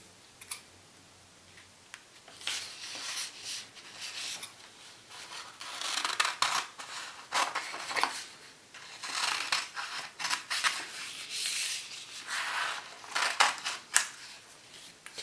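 Scissors snip and slide through paper to cut out Christmas Tardis decorations, a close, crisp run of uneven cuts and rustles that swell and fade across the whole stretch, with no voices.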